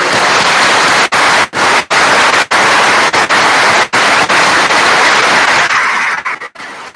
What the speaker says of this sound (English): a fine bunch of officers deserve one more round of applause